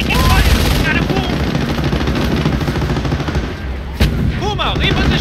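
Dense, continuous gunfire and booming artillery fill a Company of Heroes battle. Rapid bursts sound close and loud, with a short lull near the end. Game voices call out over the din.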